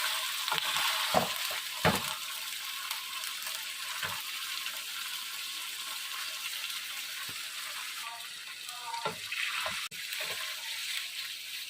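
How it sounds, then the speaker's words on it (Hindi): Masala of garlic, ginger and onion sizzles steadily in a pan, with a few sharp scrapes and knocks of a stirring utensil breaking through the continuous hiss of frying. "मसाला हमारा फ्राई हो रहा है।"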